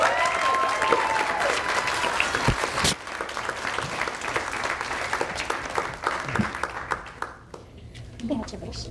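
A large audience at an honoree ceremony breaks into sustained applause, loud and dense at first and gradually thinning toward the end, with voices mixed in.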